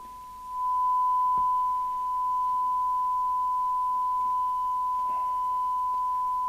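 A steady sine-wave test signal of about 100 microvolts fed into a Maxcom 20E UK FM CB radio receiver on the bench, holding one unbroken pure tone with a brief click and faint rustle partway through.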